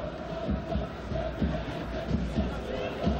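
Fez football fans in a stadium during a match, a broad distant crowd murmur with rhythmic low thumping, likely chanting or drumming, running steadily beneath a commentator's voice.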